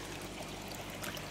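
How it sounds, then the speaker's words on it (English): Water runs steadily into a koi pond to top it up, a continuous soft trickle-and-pour hiss with no talk over it. "This is topping the pond back up."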